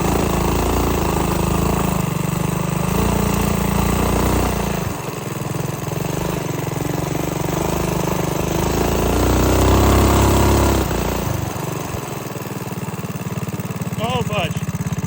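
An off-road minibike engine runs continuously as it rides over rough ground, its mid-pitched drone rising and falling with throttle changes, close and loud, with a brief squeal near the end.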